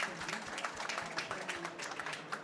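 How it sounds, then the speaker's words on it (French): Audience applause at the close of a French panel event on health data, a steady patter of claps from a modest crowd filling the whole stretch. "On peut les applaudir."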